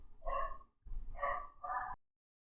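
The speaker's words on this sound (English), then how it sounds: "the barking is doing my head in" A dog barks three times up close, the loud barks a second or so apart, then silence.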